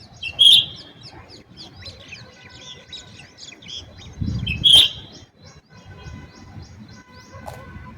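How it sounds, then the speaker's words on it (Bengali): A bird sings from a rooftop in the early morning. Two sharp, loud calls stand out against a steady background of softer chirps and twitters, and no one speaks. "এই পাখিটা দেখুন কি সুন্দর আওয়াজ করছে।"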